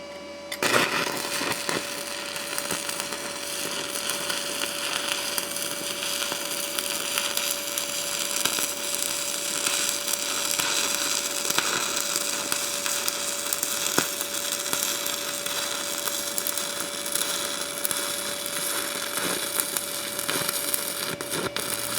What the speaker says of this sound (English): It strikes up the arc real easily.